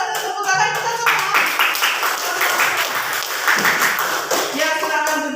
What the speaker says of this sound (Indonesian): Ayo kelompok 1 tepuk tangan kita semua.